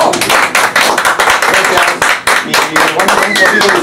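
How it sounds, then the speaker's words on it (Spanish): A small audience claps for a band, loud distinct handclaps in an uneven rhythm close by, with a voice talking over them. "Bien, muchachos, un aplauso para ellos"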